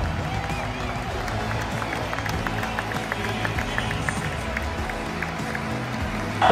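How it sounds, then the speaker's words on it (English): Crowd at Roland Garros on Court Philippe-Chatrier cheering and applauding as a tennis player enters, a dense, continuous roar of clapping and voices heard from within the stands. "The crowd went wild when Corentin entered the court."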